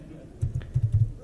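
Keys clatter on a computer keyboard in a short burst of several quick, close taps with a loose, uneven rhythm and no talking.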